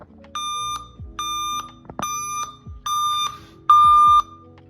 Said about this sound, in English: So first of all, it's beeping really loud.